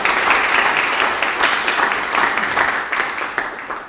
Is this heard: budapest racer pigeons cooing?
no